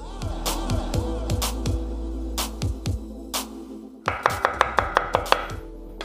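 A knife dicing an onion on a cutting board: a run of sharp, close chopping knocks, evenly spaced at first, then a quicker burst of crisp cuts against a low steady hum.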